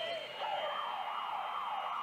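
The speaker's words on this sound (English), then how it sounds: "That siren you can hear in the background." A wailing siren rises and falls steadily in the distance, sustained under a noisy, echoing basketball game crowd.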